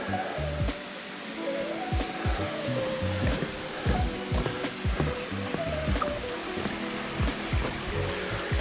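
River water swollen with runoff rushes in a continuous, broad wash, steady and fairly close, with scattered sharp clicks and thumps from nearby movement.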